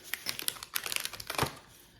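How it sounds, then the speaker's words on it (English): Plastic wrapping crinkles and crackles in short, close bursts as it is pulled off a small fingernail file, quiet and irregular with no talking. "You get a little fingernail file that has a piece of plastic around it. Unwrap that."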